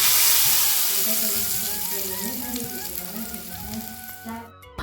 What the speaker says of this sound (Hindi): यहाँ पर जो है सरसों के तेल में जीरा और हींग का तड़का